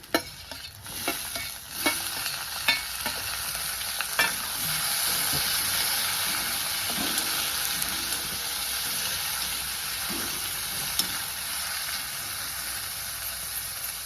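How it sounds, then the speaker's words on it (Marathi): Tomatoes added to fried onions sizzle in a pan on the stove, with a continuous loud frying hiss and a few scraping stirs early on. "कांदा लाल झालेला आहे मी ह्यात टमाटर टाकून घेते"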